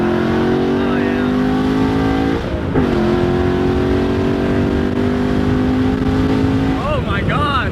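A 2017 Ford Mustang engine revs hard under acceleration, its loud sustained drone climbing steadily in pitch, dipping briefly at a gear change, then pulling up again to a high rev. Occupants talk and exclaim excitedly over the engine noise.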